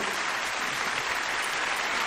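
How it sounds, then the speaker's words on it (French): Audience at a comedy show clapping for a comedian, a thick, even roar of applause filling the whole moment without a break. "Applaudissez très fort, reste là-haut."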